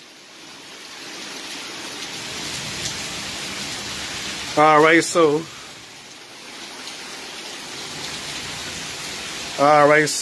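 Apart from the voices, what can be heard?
rain during a thunderstorm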